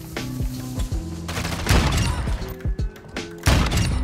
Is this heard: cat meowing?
no